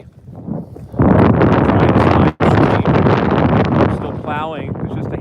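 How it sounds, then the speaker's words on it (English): Strong wind roars and buffets the microphone in heavy, continuous gusts during a snowstorm at Middle Creek Wildlife Management Area, loud and close, with a brief dropout partway through. "really windy"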